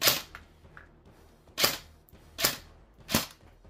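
An E&C 417 airsoft gun fires four sharp, loud shots in quick succession, each a crisp crack with a short decay, close to the listener and with no talking.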